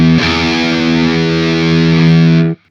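An electric guitar played through a Peavey 6505 amp module paired with a Synergy Syn20IR, heavily distorted, rings out as one loud sustained chord for over two seconds and then stops abruptly.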